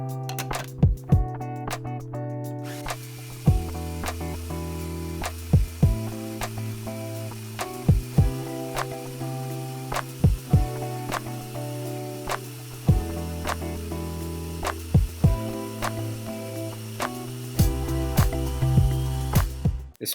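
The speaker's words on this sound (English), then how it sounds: "Then I'll load it in the basket and grind away." A burr grinder set to extra fine grinds coffee beans for espresso, giving a steady, close mechanical whir with dense rattling and clicking that runs for about twenty seconds without talking.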